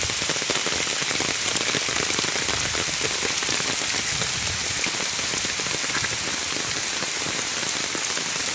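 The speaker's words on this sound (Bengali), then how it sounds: "খুব জোরে বৃষ্টি পড়ছে" Heavy rain pours on Konglak hill in a dense, unbroken hiss of drops hitting the ground, loud and steady throughout with no voices.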